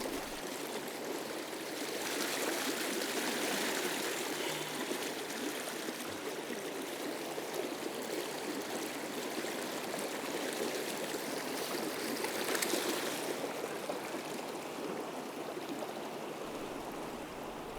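A river current runs steadily through an Austrian fly-fishing stretch, a broad, even rush of flowing water that stays loud and close throughout with no voices over it.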